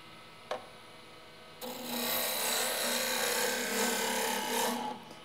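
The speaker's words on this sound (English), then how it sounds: "I'm just raising the tool up until it starts making a very fine cut" Turning tool making a fine cut on a wooden chair leg spindle spinning on a lathe: after a brief knock, a steady close shaving hiss starts and runs for about three seconds before fading out.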